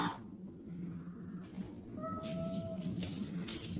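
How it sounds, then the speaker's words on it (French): A domestic cat meows once, a short tonal call rising clearly over a steady low background hum, fairly close and moderately loud. "Ça, c'est minou."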